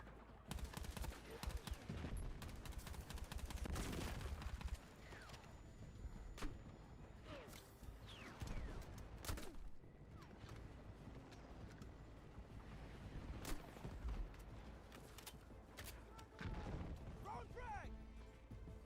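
Gunfire in Battlefield 6, played on Xbox Series X: sharp single shots and rattling automatic bursts crack out at irregular intervals over windy battlefield ambience, with a player talking during the firefight.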